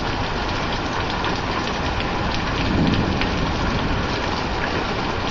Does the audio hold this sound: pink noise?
no